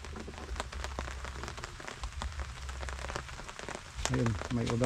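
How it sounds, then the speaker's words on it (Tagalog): Steady rain falls on a farm, a broad wash of patter running through the whole stretch, with a brief voice near the end. "may ulan na sa atin"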